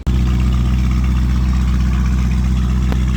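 A Lamborghini Urus engine runs loud and close, with a steady, deep exhaust drone and a low rumbling pulse that holds at a constant level without pauses, and no voices over it.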